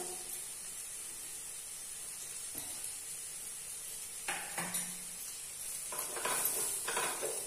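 Prawn masala with coriander-cumin powder and garam masala sautéing in a pan, a steady faint sizzle with occasional stirring scrapes that grow busier toward the end.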